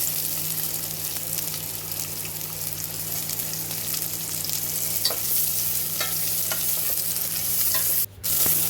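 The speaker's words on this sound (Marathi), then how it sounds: "लसूण मातशी भाजली म्हणटकूच कांदो घालपाचो एक चिरून मोठोसो।" Chopped onion and garlic fry in hot oil for a Goan crab masala, with a constant dense sizzle, occasional stirring scrapes and a brief dip near the end.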